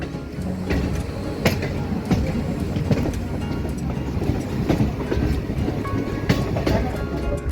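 A Kolkata Circular Railway train rolls steadily along the tracks, its wheels rumbling with a continuous low drone and periodic rhythmic clacks over rail joints, heard from on board at moderate volume.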